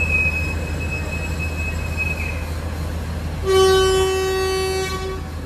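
An economy train pulls away from Wates station, its wheels squealing steadily under a constant rumble before a long horn blast sounds loud and near.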